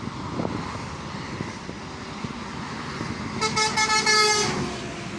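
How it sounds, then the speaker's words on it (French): A Scania truck horn sounds in the latter half, a loud, sustained multi-tone blast rising over steady road and engine noise. "Attention en haut, Scania, parce que ce sont des beaux klaxons parfois."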